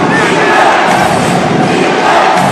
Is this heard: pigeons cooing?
no